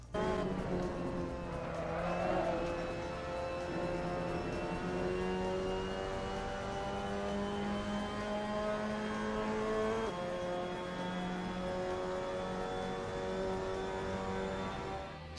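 Mazda MX-5 Cup race car lapping Red Bull Ring in the Assetto Corsa racing game: a steady, loud engine drone with rising and falling harmonics through gear changes, with brief tire squeal around the corners, no talk.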